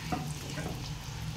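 Chirote sweets crisping as they fry in ghee, giving a steady, dense sizzle with light bubbling throughout, no talk.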